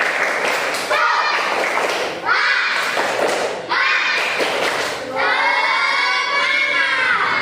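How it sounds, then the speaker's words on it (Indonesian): Schoolchildren in a classroom perform the tepuk semangat clapping chant, shouting together in loud, rhythmic bursts punctuated by thumping claps. Each group burst rises, pauses briefly and starts again. "Sekarang kita tepuk semangat ya."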